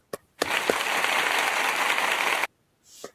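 Audience clapping at a talk about protecting yourself before the justice system, a dense burst of applause lasting about two seconds, then stopping abruptly, with a few isolated claps before and after.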